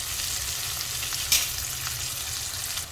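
Potatoes with chopped tomato and green chillies fry in a pan, a continuous sizzling hiss with faint stirring scrapes and one brief sharper clink partway through, close and steady throughout.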